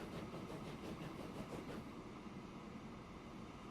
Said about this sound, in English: cattle train there that runs down to Whitemore Yard and back